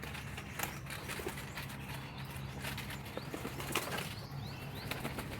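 Pigeon wings flapping in short bursts as the bird returns and lands at its loft, brief flutters scattered over a low steady background hum, fairly close.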